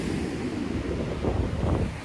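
Ocean surf rolls onto a beach at San Blas, Mexico, a steady broadband wash of breaking waves with low wind rumble buffeting the microphone, swelling slightly louder toward the end, with no voices.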